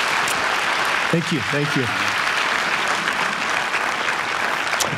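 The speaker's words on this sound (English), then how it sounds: "So with a round of applause, loving from Valley Bible Fellowship, welcome to our pulpit." A church congregation applauds a guest speaker welcomed to the pulpit, steady broadband clapping filling the room throughout while a voice briefly speaks over it.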